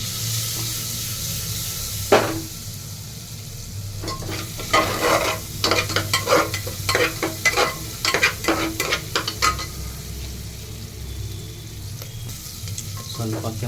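Chopped onion and beans, following carrot, sizzle in a pan for paneer biryani, a steady fry punctuated by bursts of scraping and stirring from a spoon, close and fairly loud without any talking.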